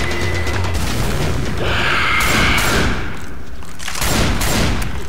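Heavy booms and rapid gunfire fill a Left 4 Dead 2 firefight as a pipe bomb goes off, with thudding blasts and rattling shots in repeated bursts at close range over constant game noise.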